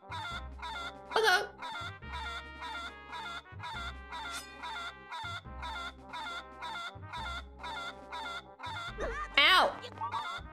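A cuckoo chicken in The Legend of Zelda: Four Swords Adventures lets out two loud, squawking clucks several seconds apart over looping, bouncy game music.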